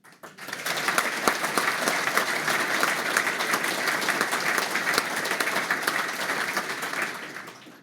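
An audience at a cadet awards ceremony gives steady, sustained applause for an absent award recipient. Many hands clap evenly for about seven seconds before the clapping fades out.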